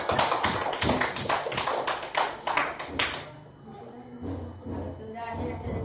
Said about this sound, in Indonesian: Kepada kelompok 1 beri tepuk tangan